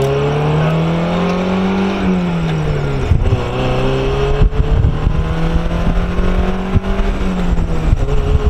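A Mazda Miata with its soft top down accelerates hard, the engine note climbing loud and close, easing back, then pulling again in steady rising sweeps against rushing wind.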